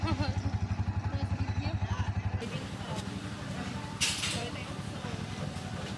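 A motorcycle engine starts and idles with a steady rapid thumping pulse up close, then settles into a rougher running rumble, with people talking over it and a brief clatter near the end.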